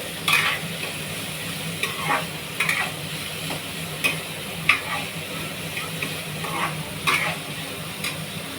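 Mango rice mixture frying in a pan, a steady low sizzle with repeated scraping stirs of a spoon at irregular intervals, close and moderately loud with no talking.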